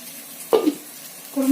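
Water from rinsing the blender jar is poured into a simmering white kurma, giving a brief splashing pour followed by a short sizzling bubble near the end, close by with no talk.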